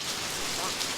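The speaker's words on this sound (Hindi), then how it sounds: "बारिश आ गई क्या?" Steady rain falling outdoors, a dense, even hiss that fills the whole second at moderate loudness with no voices over it.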